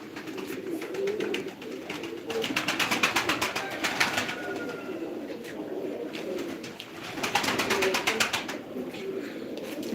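Domestic Diyarbakır tumbler pigeons coo repeatedly at close range, their soft, throaty calls rising and falling over a busy flutter of wings and background rustle.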